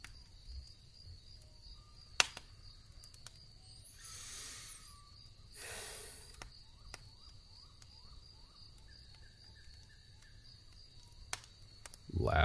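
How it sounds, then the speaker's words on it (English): Faint crickets and spring peepers trill steadily through a quiet night, with scattered high chirps, a couple of whooshing gusts and occasional sharp clicks. "That's just crickets and peepers."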